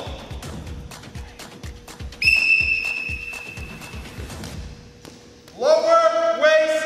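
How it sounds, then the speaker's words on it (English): A referee's whistle gives a clear sustained blast during an indoor dodgeball game show, cutting through repeated ball thuds and bounces, followed later by a second shriller burst of whistling or cheering. "Now, dodgeball throw on my whistle."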